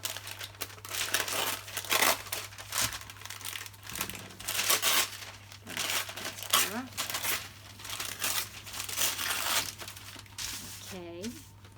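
Wax paper is pulled and handled at a crafting table, giving steady close crinkling and rustling in repeated bursts for several seconds, with a person talking quietly over it and a low electrical hum underneath.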